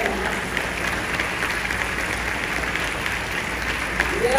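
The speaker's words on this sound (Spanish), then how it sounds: "Ese aplauso grande a Él." Church congregation applauding during a sermon, a dense continuous roar of many hands clapping throughout, fairly loud and steady with crowd murmur beneath.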